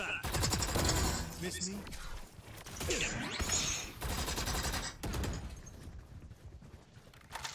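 Rifle fire in the video game Valorant crackles in rapid automatic bursts, loud and continuous, with short gaps between volleys and game effects mixed in.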